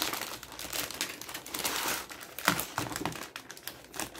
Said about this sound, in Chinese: 好，那我们先从侧边这边把包装先拆开来。